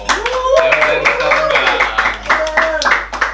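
Studio audience clapping after a talk-show guest, a fixie cyclist, is praised; steady, fairly loud applause with a speaking voice running over it throughout.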